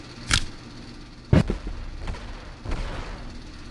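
Egg launcher shots in the Animal Company video game ring out as a few sharp, punchy bursts spaced about a second apart. Each burst is followed by a short rumbling tail, with quiet gaps between them.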